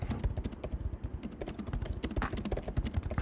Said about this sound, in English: I'm typing terribly this morning.